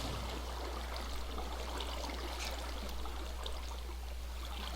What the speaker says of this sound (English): Can we do it in this little running water?